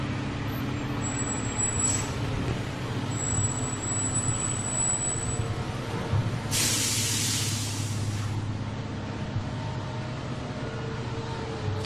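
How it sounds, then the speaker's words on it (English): A fire truck pulls up at an active-shooter drill at Picatinny Arsenal, its low engine rumbling steadily throughout, with a loud burst of air-brake hiss in the middle. "as we watch this fire truck pull up"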